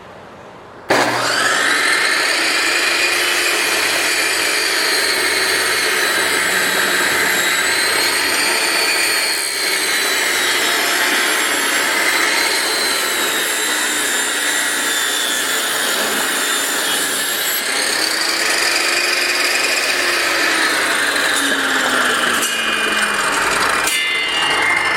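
A Stanley SST1801 table saw starts with a sharp jump and runs loud and steady, its whining blade tone shifting slightly in pitch as it cuts wood, then winds down at the end.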